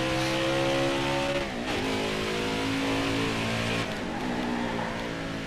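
A racing truck's engine in NASCAR Heat 5 at Mid Ohio, a loud sustained whine with harmonic pitch sweeping as the revs rise and drop through corners, heard alone.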